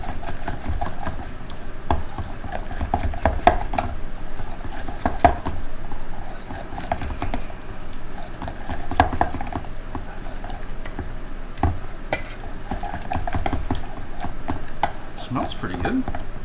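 A spoon mixes garlic dip in a bowl, producing repeated scraping and clicking knocks over a steady low hum, with some background voice-like sound.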